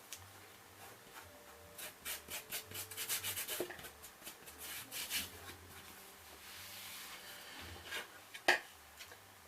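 Dried glue is rubbed off a wooden family photo frame with a steady scrubbing, rasping texture in repeated strokes, close and fairly quiet, with one sharp tap near the end.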